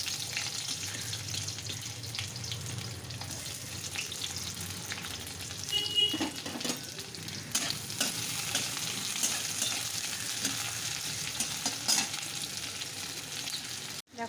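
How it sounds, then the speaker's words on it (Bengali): Chopped onion frying in hot oil with black cumin, a steady close sizzle with occasional stirring scrapes and clatter, no talking. "তারপর পেঁয়াজ কুচানোটা দেবো।"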